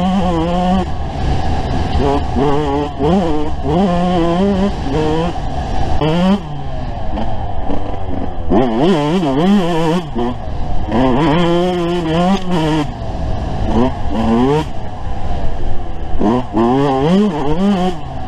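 Yamaha YZ125 two-stroke dirt bike fitted with Moto Tassinari VForce 4R reeds, ridden at a track, its engine loud and continuous with repeated rising and falling revs as it shifts through gears, close to the rider throughout.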